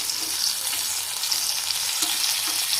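Bombil fish fry in oil in a pan as pieces are flipped, a steady close sizzle with faint scrapes and small pops and no voices.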